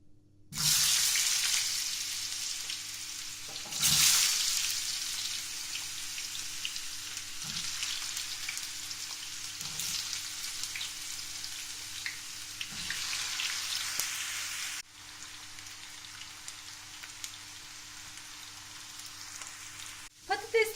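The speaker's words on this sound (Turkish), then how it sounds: "Sırasıyla malzemelerimi kızartacağım. Çok fazla kızartmayacağım. Hafif rengi dönene kadar çevireceğim yağın içerisinde." Peppers and other vegetables fry in hot oil with a steady, close sizzle lasting about twenty seconds, with occasional soft clicks and knocks from turning the pieces, and no talking.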